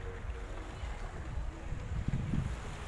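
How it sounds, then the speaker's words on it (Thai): Wind gusts and rolling sea waves at Pattaya beach make a steady, broad rushing noise with mic buffeting and a few low surges, no clear speech over it. "ลมเย็นนะฮะ นี่ ดูคลื่นทะเล"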